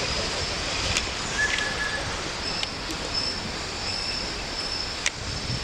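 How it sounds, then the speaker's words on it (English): A train pulling away along railway tracks in the Appalachian mountains, a steady broadband rumble with faint wheel squeals and clicks, heard from nearby with no talking. "There goes the train."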